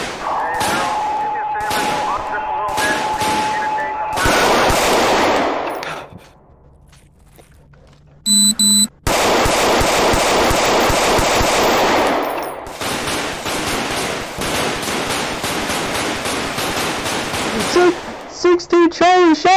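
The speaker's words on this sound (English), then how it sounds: "16 Charlie, shots fired!" Gunfire during a police confrontation, heard from a body camera: loud rapid bursts of shots in several volleys, separated by a quieter pause and a brief electronic tone, with shouting voices mixed in.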